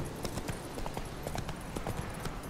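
Horse hooves clip-clop steadily on the ground in The Witcher 3, a busy run of close footfalls under dense game ambience.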